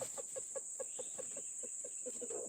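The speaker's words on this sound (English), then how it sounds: "The fucking chickens, bro. They keep coming under the tent." Chickens wander close to a campsite tent, giving a quiet, rhythmic series of soft clucks in an even pulse, over a steady high insect-like drone in the background.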